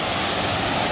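A waterfall with a drop of about ten metres roars in a steady, loud, dense wash of falling water that fills the whole moment, with no voices over it.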